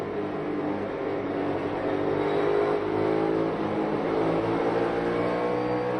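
NASCAR Cup Series stock cars race on the concrete at Bristol, their engines a steady, loud roar that swells slightly midway as the pack goes by, with no voices.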